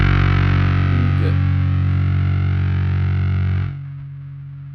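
A bass guitar played through the Aroura DSP Mammoth distortion amp sim roars in a thick, sustained distorted note, loud and steady, then cuts off abruptly as if gated, leaving only a faint tail.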